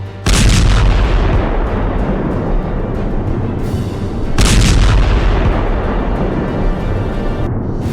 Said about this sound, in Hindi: जवाबी कार्रवाई करते हुए लेबनान की तरफ ताबड़तोड़ मिसाइलें दाग दी